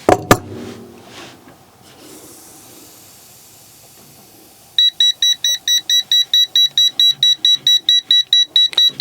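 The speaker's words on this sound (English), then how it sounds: "It also has an audible and a visual leak detector on here." PT300 gas leak detector sounding its audible alarm after a sharp knock and soft hiss of gas, a rapid series of evenly spaced, piercing electronic beeps that starts abruptly and continues steadily to the end.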